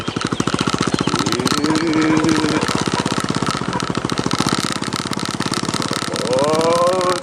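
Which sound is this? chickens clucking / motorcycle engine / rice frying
motorcycle engine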